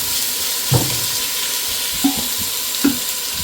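Pieces of chicken go into a pan of frying onions, giving a steady loud sizzle with a few soft thumps and scrapes of stirring rising over it.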